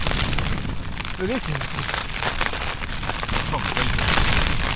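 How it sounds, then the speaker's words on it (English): Strong gale-force gusts battering a tent while wild camping, a constant loud roaring buffet with flapping noise; a person speaks briefly over it. "These aren't 35 mile an hour gusts, these are heavier"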